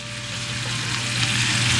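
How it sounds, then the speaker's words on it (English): Butter and water coming to a boil in a pot for churro dough, a continuous close bubbling sizzle that grows slightly louder, with no one speaking. "Okay, now it's boiling."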